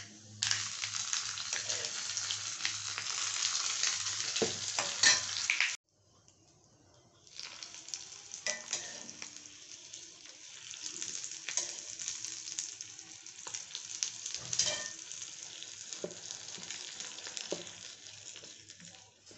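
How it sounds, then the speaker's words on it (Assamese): Hot oil tipped onto coconut chutney, a bright close sizzle that cuts off abruptly, then a softer crackling hiss that swells again and fades unevenly. "তাৰপৰা এই তেলখিনি মই চাটনিখিনিত দি দিওঁ ধুনীয়াকৈ।"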